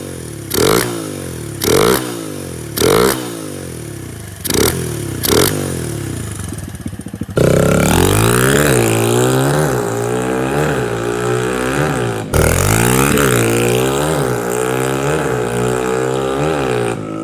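A carbureted engine with its choke removed runs with no talk. It gives several short throttle blips, then settles into a sustained, loud full-throttle roar with wavering revs and a brief dip partway through.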